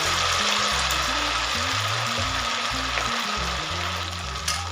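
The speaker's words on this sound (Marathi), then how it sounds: "आपण आता हे सर्व वडे त्याच्यामध्ये अशा पद्धतीने सोडून घेणार आहोत" Sabudana vadas sizzle steadily in hot oil in a kadhai over a medium gas flame, a continuous close frying hiss with a low hum underneath and no speech.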